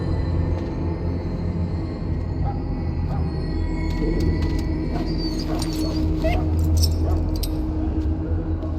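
A dog whimpers and yips softly in Dragon Age: Origins, thin high whines rising over a dense layer of game ambience and low rumble, with faint jingling and no talk.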